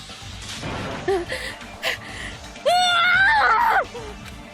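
A voice actor lets out a loud, sustained scream of despair lasting about a second, preceded by short strained gasps and groans, close and alone.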